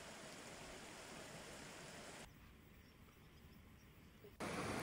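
A muddy brown river flows steadily with a broad, constant rushing wash, dropping quieter midway and then surging louder again, with no voices over it.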